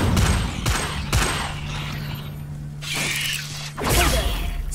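Incendio fire spell cast again and again in Hogwarts Legacy: sharp, loud magical blasts and crackling bursts go off in quick succession, each trailing into a rushing, fiery tail.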